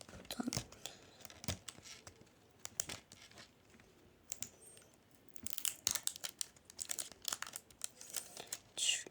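Crinkly plastic wrapper of a green Pıt Pıt lollipop being torn and peeled open, with close, bursty crackles and rips in irregular clusters and quiet pauses between them.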